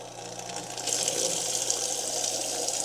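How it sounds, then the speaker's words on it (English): Tap water runs into a kitchen sink with a garbage disposal for rinsing, a close, loud, steady gushing hiss that strengthens after a brief softer start. "I'm just gonna go ahead and put some water in there and then rinse it out"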